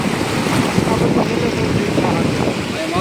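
Floodwater from heavy rain rushes across flooded Ghed farmland near Kadachh, a loud, steady, unbroken roar of moving water close by, with a voice faintly beneath it.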